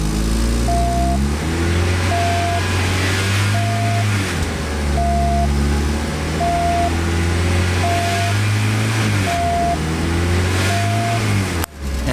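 A 1990 VW Jetta GLI engine held steadily at about 3,000 RPM, giving a loud, continuous droning hum with a faint regular pulsing beat, unbroken for the whole stretch before cutting off abruptly near the end.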